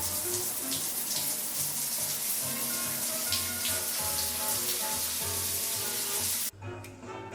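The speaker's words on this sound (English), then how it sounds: "and gets into the shower" A shower runs with a steady, dense hiss of falling water, close and continuous, then cuts off abruptly near the end, leaving a quieter tail.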